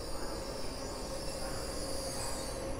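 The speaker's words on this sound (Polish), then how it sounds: "Rusza flirt Kolei Mazowieckich i wjeżdża dziobak PKP Intercity" PKP Intercity ED250 train pulling into Warszawa Zachodnia station at night, a steady rolling rumble with a thin high squeal and a constant hum, continuous and moderately distant.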